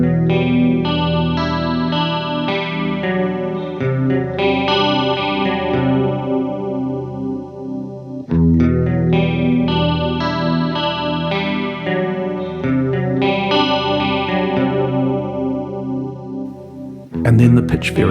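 Guitar playing through a PitchFork detune effect set for stereo width, with chorus-like modulation and wavering pitch growing more obvious as the setting rises; sustained chords ring out loud and close, restruck twice, with no talking.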